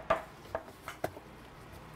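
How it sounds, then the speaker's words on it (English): Chicken is chopped with a knife on a board in a kitchen preparing an Indonesian rice table, giving four evenly spaced, moderately loud chops with quiet gaps between them. "Chopping that all up."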